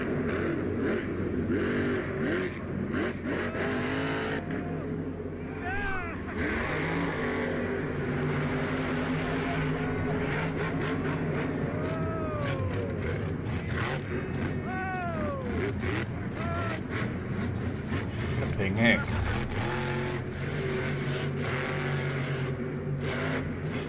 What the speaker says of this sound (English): America's got monster trucks that roar like lions.